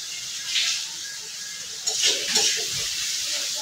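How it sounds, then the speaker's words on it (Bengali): A spice paste for a Bengali fish curry is stirred in a pan with a splash of water. It gives a soft, steady sizzle, with two brief louder bursts of scraping and stirring near the end. "মশলাটা লাড়ে নিতে জল তো একটু দিচ্ছি হালকা"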